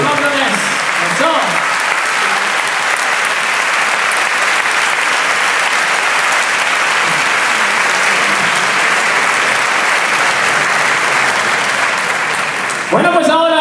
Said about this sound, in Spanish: Ese bonito aplauso para todos los jóvenes de los campeones.